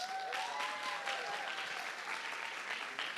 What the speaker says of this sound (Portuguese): Palmas para Amanda, gente.